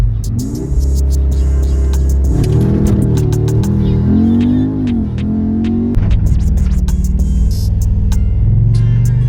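A car engine revs repeatedly, pitch climbing and dropping in surges, loud and close, with sharp clicks and pops scattered over the top.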